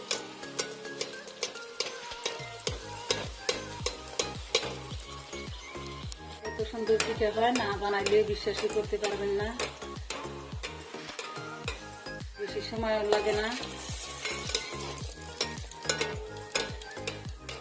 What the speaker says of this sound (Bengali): এখন পিঠা দিয়ে দিব, একটা করে ভেজে নিব।